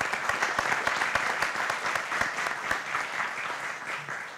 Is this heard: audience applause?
yes